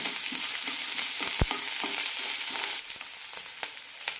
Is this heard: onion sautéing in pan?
yes